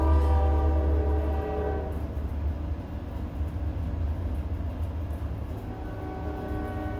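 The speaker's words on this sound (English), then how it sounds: "train's coming in" A train pulls in, its horn sounding loud and steady with a strong harmonic tone for about two seconds, then giving way to a continuous low rumble of rail cars rolling past nearby.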